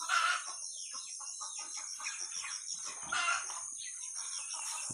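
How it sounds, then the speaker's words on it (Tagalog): Chickens on a small backyard farm cluck and chatter close by in short repeated bursts, over a steady high insect-like hum in the background. "Busog na yung mga manok ko dun."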